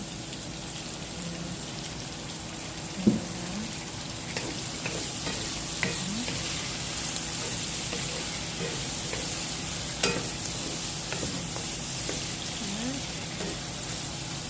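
Chicken adobo sizzling and frying in a pan as soy sauce is added, a steady dense crackle running throughout with a few small clinks of utensils and faint talk underneath.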